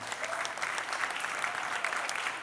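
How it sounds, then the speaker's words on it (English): Audience applause at a live hip-hop stage event, a dense, steady burst of clapping from a crowd that fills the whole short stretch at close range. "Let's give a round of applause for our good brother King Simon."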